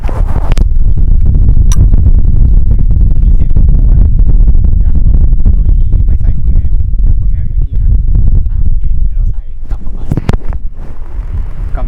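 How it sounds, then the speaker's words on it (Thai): An electric fan running on speed one, a steady, loud, breathy whoosh buffeting close to the microphone, with a few faint clicks along the way. "และนี่ก็เป็นเสียงพัดลมเบอร์หนึ่ง"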